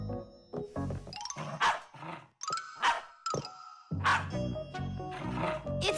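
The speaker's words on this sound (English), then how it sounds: "You know how Chewsocka barks whenever she sees a Fixie around." A cartoon dog in a children's animated show barks and yelps repeatedly in loud, close, bursty calls with short pauses between, playing alone without talk.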